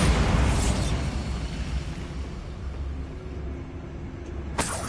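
A Bombarda blasting spell goes off in Hogwarts Legacy as a single loud burst, a dense rumbling roar that slowly thins out over several seconds, with a sharp crack near the end.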